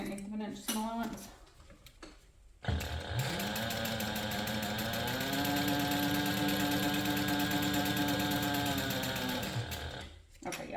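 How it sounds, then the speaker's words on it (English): Sewing machine running in one long sustained burst along a handbag side seam at an 1/8 inch seam allowance, steady and close, with brief talk before the machine starts. "So I'm just going to sew down the side using an 1/8 inch seam allowance"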